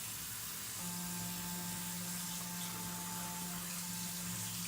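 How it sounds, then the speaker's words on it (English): A spinning Clarisonic cleansing brush washes a face with a steady motor hum over constant running water from a sink. "I go in with my Clarisonic, ta-da, and I just go around and wash it again"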